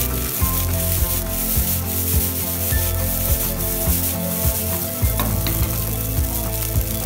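Fried rice tossed in a pan over full flame for restaurant-style egg fried rice, a loud steady sizzle broken by repeated rhythmic clanks and scrapes of the pan and ladle, close up with no talking.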